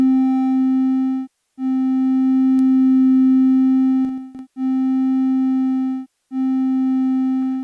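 A steady synthesized tone with bright harmonics is played chromatically on a Roland SP-404 MKII sampler, heard as four sustained held notes separated by short gaps, loud and clean with no voices.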